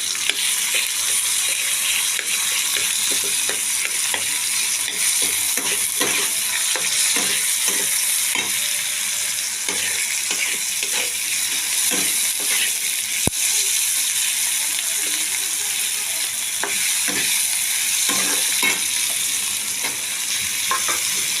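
Cabbage with tomatoes, green peas and green chillies sautéing in a pan, a loud continuous sizzle and hiss with frequent spatula scrapes and knocks against the pan throughout.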